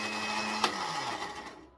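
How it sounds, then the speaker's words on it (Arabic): A kitchen blender whirs steadily close by as it purees tomatoes for homemade ketchup, with one sharp knock partway through before the motor winds down and stops. "ونحط بقى كميه القوطه بتاعتنا ونضربها في الخلاط"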